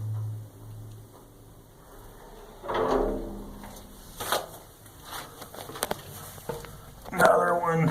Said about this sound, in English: Got these big, heavy doors here.